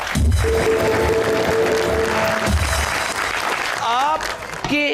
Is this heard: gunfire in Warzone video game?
no